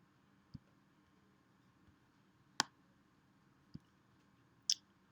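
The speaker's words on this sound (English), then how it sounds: "So I'm clicking and dragging, clicking and dragging," A computer mouse clicks faintly a few times at irregular intervals against quiet room tone while being clicked and dragged during drawing work.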